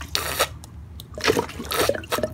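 Water trickling and splashing in short bursts as an inverted bottle refills a passive vertical hydroponic reservoir back to level, close and moderately loud with gurgling pulses.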